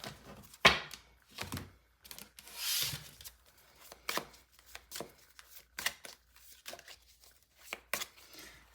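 Tarot cards being shuffled by hand on a table, giving a run of soft riffling, rubbing and tapping bursts at close range, with no talking.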